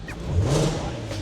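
A swapped-in VR6 engine in an all-wheel-drive VW Scirocco gives a short close rev, a brief rising growl that fades back toward idle, with a voice speaking briefly over it.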